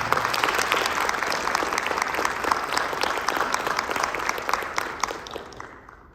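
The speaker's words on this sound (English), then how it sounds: "Give him a round of applause." An audience at a Choctaw social dance performance breaks into sustained applause for a drummer brought on stage, dense steady clapping that fades toward the end.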